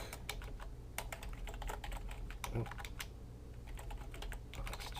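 Rapid, uneven clicking of keys on a computer keyboard while code is written, faint and close, with bursts of fast typing and short pauses.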